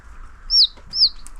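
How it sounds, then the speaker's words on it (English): Three-day-old bantam chicks on a farm, giving short high chirping peeps, two clear calls close by over a low background hum. "So this is our little bantams."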